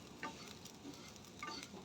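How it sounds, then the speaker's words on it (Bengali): Rice frying in a pan for basanti pulao, a very quiet, soft sizzle with a couple of light scraping stirs of the grains. "দেখুন চালটাকে কিন্তু আমি ভালো করে ফ্রাই করে নিচ্ছি"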